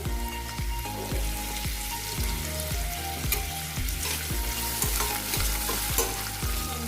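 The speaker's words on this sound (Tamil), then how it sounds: "வெங்காயம் கொஞ்சம் வதங்கட்டும். வெங்காயம் சீக்கிரம் வதங்குறதுக்கு கொஞ்சம் உப்பு போட்டுக்கலாம்." Onions sautéing with salt in a pan for tomato biryani, a dense continuous sizzle with a regular rhythmic scrape of stirring, close and steady, no voices.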